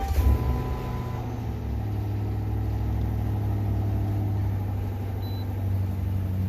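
A 2011 Ford Crown Victoria Police Interceptor V8 cranks and fires up, then settles into a steady, smooth low idle rumble close by.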